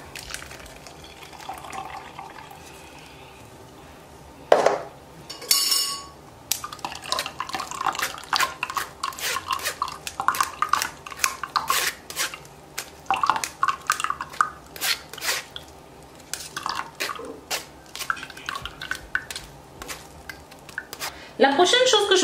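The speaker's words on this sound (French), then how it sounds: "une passoire dans laquelle vous allez filtrer votre boisson" A ginger drink poured through a kitchen strainer, with liquid trickling and splashing and metal utensils clinking and scraping against dishes. Occasional voice sounds are heard between the pouring.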